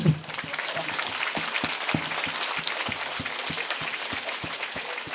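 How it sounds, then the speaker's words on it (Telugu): An audience bursts into applause at a meditation talk, a dense run of crisp, rhythmic hand claps that stays fairly even and mid-distance throughout. "big claps"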